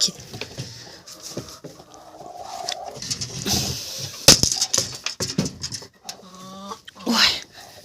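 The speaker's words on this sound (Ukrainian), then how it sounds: "Де там мої курочки?" Hens in a rural farmyard cluck intermittently among scattered clatter and movement noise, with ducklings nearby, the calls fairly close and irregular while someone talks now and then.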